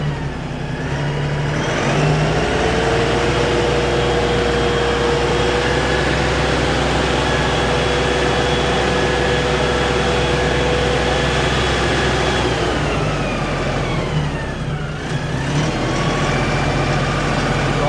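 A tractor engine drones steadily under heavy load while working a rotary tiller in a field being prepared for watermelons, a loud continuous close-up rumble with a brief dip and shift in pitch near the end.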